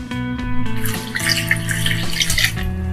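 Tap water running and splashing into a vessel while cleaned prawns are rinsed by hand, a close, steady pour with small shifts in pitch and no talk.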